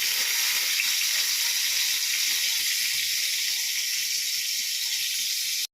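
Brinjal (eggplant) slices with turmeric and salt frying in hot oil in a wok, giving a steady, even sizzling hiss close up from start to finish before cutting off abruptly.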